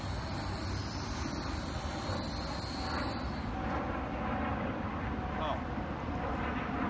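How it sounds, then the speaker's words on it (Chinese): A fighter jet passes overhead near Ching Chuan Kang air base, a loud sustained roaring rush with a high whine fading after a few seconds, while someone speaks briefly over it and a small drone whirs nearby. "我们等飞机先过去一下，等飞机过去一下，有点吵。"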